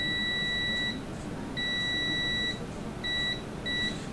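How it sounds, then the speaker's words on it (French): A continuity tester beeps in repeated tones while checking a control relay's contacts, with four sharp electronic bleeps of varying length and short gaps between them, sounding close and clear with no talking. "Fait que si je m'en viens brancher ça à ici, ça sonne."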